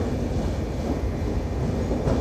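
A train runs through a dark tunnel cut into a mountain on an Indian sleeper-class journey toward Kolkata, heard from inside as a loud, steady, close rumble of wheels on rails, without talking.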